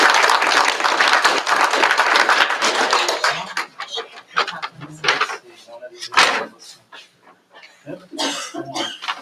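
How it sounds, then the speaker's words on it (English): A room at a school district governing board meeting breaks into a round of applause for a staff member, loud for about three seconds and then scattering into isolated claps, thumps and murmurs. "Let's give a round of applause for Pamela."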